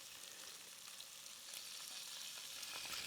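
Salmon frying in a pan with a splash of teriyaki sauce, giving a steady, faint hiss and crackle that swells slightly toward the end.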